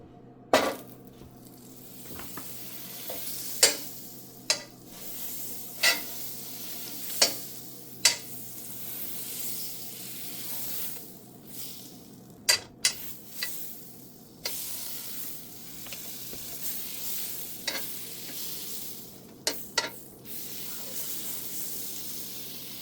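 Meat searing in a hot pan, a steady soft sizzle with repeated sharp scrapes and clinks from stirring or turning the pieces, fairly close and moderately loud, with no talk.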